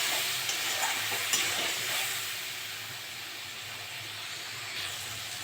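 Spice paste with chopped tomatoes and a splash of water sizzles and hisses in oil in a pan for a fish curry, with occasional stirring scrapes and a steady bubbling hiss.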